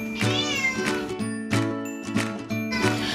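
A cat meows repeatedly in a loose rhythm of about five close, clear calls, some drawn out with rising and falling pitch, alongside a light tinkling jingle.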